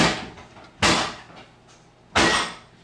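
A voice imitates drawers being slammed and things being thrown around upstairs in a house bathroom, producing three sharp, loud bursts of noise spaced unevenly across a few seconds, with no other talking.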